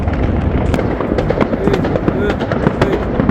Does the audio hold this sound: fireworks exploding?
yes